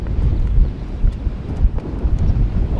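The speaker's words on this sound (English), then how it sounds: "but this wind is brutal" Strong wind gusting across the golf course at St Andrews, roaring and buffeting the microphone in a continuous low rumble, with no talk over it.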